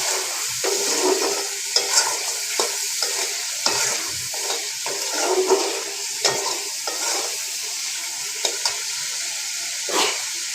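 Ginger-garlic spice paste sizzles and fries steadily in a hot pan, with a constant bright hiss broken by repeated scraping stirs from a utensil, close and moderately loud with no talk.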